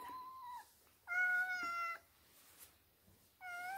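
A cat meows three times, clear and fairly close, each call a drawn-out tonal cry separated by short quiet gaps, with no talking.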